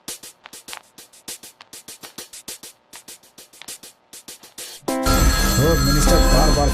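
A telephone rings repeatedly in short, evenly spaced trills for several seconds, then gives way abruptly to loud music.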